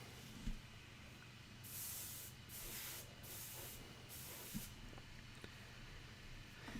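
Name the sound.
airbrush compressor spraying paint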